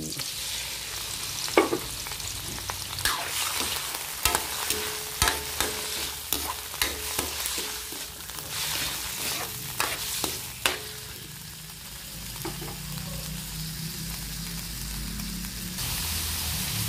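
Chicken liver hits a pan of sautéed onion and garlic, for a dish with Baguio beans, and fries with a continuous close sizzle. Sharp spoon taps and scrapes against the pan recur through the first two-thirds.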